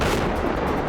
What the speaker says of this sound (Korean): 새해를 맞았지만 우크라이나의 총성은 멈추지 않고 있습니다